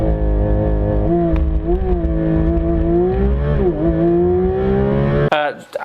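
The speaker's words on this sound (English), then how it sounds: "High revving, beautiful sounding, and just everything that you need in a car." A Porsche 992 GT3 RS flat-six engine revs steadily and loudly with a rising, falling pitch, then cuts off abruptly near the end.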